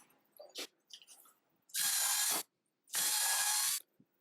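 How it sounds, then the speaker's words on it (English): Countersinking drilled holes in timber, two loud grinding whirs of about a second each with a pause between, set among faint handling knocks and taps. "I countersunk the holes."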